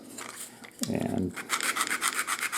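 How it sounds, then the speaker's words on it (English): Close, rhythmic scratchy strokes of heavy-grade sandpaper rubbing over the wood of a wooden model steam engine, with a brief low knock partway through. "I'm going to use a heavier grade sandpaper."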